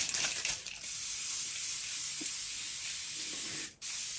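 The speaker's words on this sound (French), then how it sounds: "Je vais d'abord mettre mon spray Aven de chez Aven." Avène thermal water face spray hisses in a steady, close mist for several seconds, breaking off for a brief gap before resuming.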